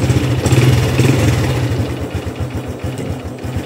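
An underbone motorbike engine idles close by with a steady, even putter and a slight rise in the middle, heard alone without speech.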